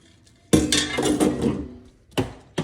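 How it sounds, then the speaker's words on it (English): Drained noodles tossed into a pan with shrimp and sauce: a clattering metallic clank and rustle of pasta hitting the pan, followed by two sharper knocks of pan contact, with no talk. "And now I'm just gonna go ahead and toss them into my pan."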